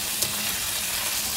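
Cherry tomatoes frying with onion in a pan, a brief loud steady sizzle with a single sharp clink near the start, no speech.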